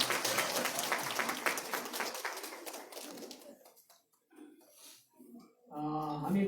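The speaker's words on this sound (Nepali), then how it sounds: "हामी उहाँलाई ताली बजाएर धन्यवाद दिन्छौँ" A church congregation applauding, dense clapping from many hands for about three seconds that fades out, followed by a short pause and a voice speaking.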